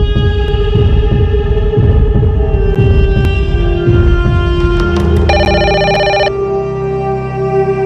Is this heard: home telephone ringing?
yes